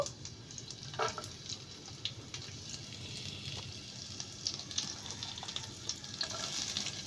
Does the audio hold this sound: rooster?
no